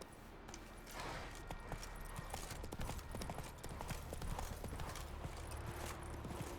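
Hooves of a galloping horse in The Witcher 3, rapid clip-clop beats pounding close and steady over a soft game backdrop, with no one speaking.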